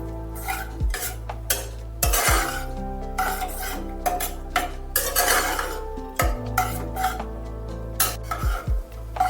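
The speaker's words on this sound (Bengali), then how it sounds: "মশলাটা ঢেলে দিয়ে ডালের মধ্যে ভালোভাবে মিশিয়ে নিতে হবে" A spoon stirs a tempered spice mixture into masoor dal in a metal pot, giving repeated close clanks and scrapes against the sides over a faint sizzle, with irregular bursts and pauses and no voices.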